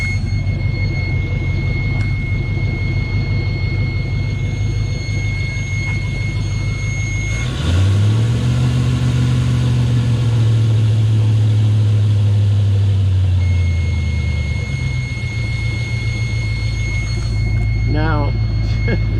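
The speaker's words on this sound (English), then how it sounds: "I turn on the engine, and he checks it." A Luhrs 28 boat's engine runs smoothly and steadily, a loud low drone that swells when it catches and holds an even tone before easing down, with a faint high whine and a brief chirp near the end.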